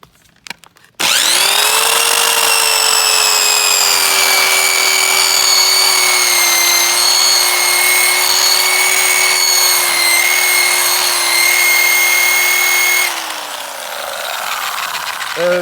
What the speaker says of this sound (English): We're going to give this roller a try and see what it does to this wood.